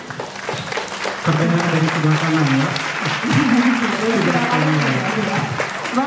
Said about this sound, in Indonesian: boleh tepuk tangan yang meriah untuk kita di sini